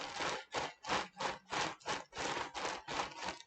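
Dry grass being walked through, imitated by crumpling a plastic bag stuffed with newspaper, gives a steady rhythm of about nine crisp rustling crunches, close and moderately loud, with no talk.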